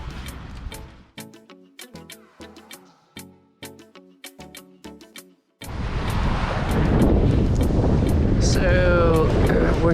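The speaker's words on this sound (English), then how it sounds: "Now, there is clearly a breeze, which actually feels nice." Breeze blowing at a beach campsite: a loud, steady roar of wind buffeting the microphone that takes over after several seconds of speech, with a short whistling tone near the end.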